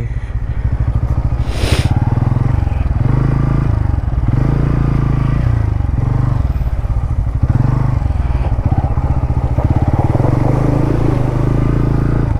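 A motorcycle rides through heavy rain on a wet road between Sangti Valley and Bongaigaon, its engine droning steadily and loudly throughout while the tyres hiss and scrape on the slick surface.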